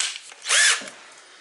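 A brief, close whine of a power drill starting to drive a screw into a wooden carving of a Hobbit door, rising to a short high-pitched burst and then easing off.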